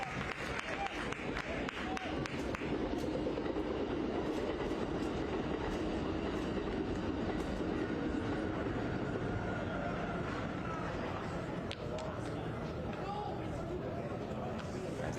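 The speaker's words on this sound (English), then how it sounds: "As the train goes by" A train passes near a soccer stadium during a Tacoma Defiance match, a long steady rumble with clattering wheel clicks and a faint squeal, under a sports commentator's ongoing talk.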